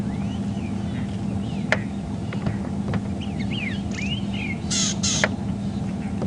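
A drongo on a South African game reserve mimics other birds. Short whistled swoops and chirps and a couple of sharp calls come from nearby, one after another, over a steady low idling vehicle rumble.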